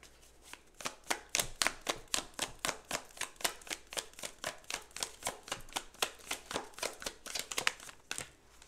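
Tarot cards being shuffled up close in a quick, steady run of crisp riffling snaps, about thirty-five sharp flicks over roughly eight seconds, with no voice.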